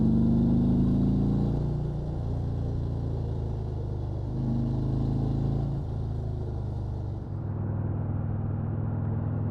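A Harley-Davidson motorcycle is ridden in cold weather, its engine giving a steady close rumble throughout with slight shifts in pitch as the speed changes.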